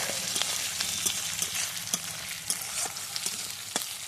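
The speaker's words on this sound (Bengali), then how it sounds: "তো এখন আমি ক্যাপসিকাম পেঁয়াজ সব দিয়ে দিয়েছি একটু চিনি দিয়েছি নুন দিলাম ওটাকে একটুখানি ভালো করে কষিয়ে নিতে হবে" Capsicum and onion with salt and sugar being stir-fried in a pan for a restaurant-style Chinese dish, a close, steady sizzle broken by regular clacks of the spatula stirring.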